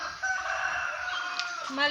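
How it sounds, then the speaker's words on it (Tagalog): A hen gives a drawn-out, nasal clucking call lasting about two seconds, close by, rising slightly at the end. "Dito ang mga inahin."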